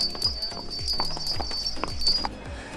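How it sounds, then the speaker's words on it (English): Horse hooves clip-clopping at a steady walking rhythm on a street in Malta, close by, with faint clinking and some background voices. "Oh, gonna get run over by a horse."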